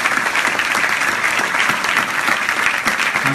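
Sustained applause from a large university lecture audience, dense and steady clapping filling the whole stretch without pause.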